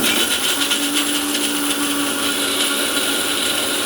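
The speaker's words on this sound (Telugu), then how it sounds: "ఫస్ట్ మిక్సీలో పేస్ట్ చేసుకుందాం" A mixer grinder grinds spice paste for chicken curry, whirring loudly and steadily up close, its motor running without pause throughout.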